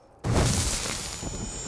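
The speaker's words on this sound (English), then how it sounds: "Do you hear the explosion?" A sudden explosion in the game Middle-earth: Shadow of War breaks out of near quiet with a heavy boom, then a rolling rumble and hiss of debris that fades slowly.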